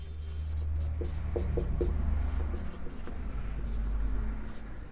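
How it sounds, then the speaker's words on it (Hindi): Pen writing by hand on paper during a Hindi class-nine maths lesson on trigonometry, close soft scratching strokes over a low hum, with a voice speaking over parts of it. "तो चलिए मैं यहाँ पर लिख देती हूँ"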